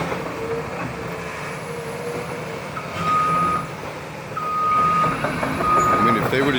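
A heavy construction machine reverses near wetlands, its steady backup beeps sounding over a loud diesel engine rumble that swells and fades, with no voices.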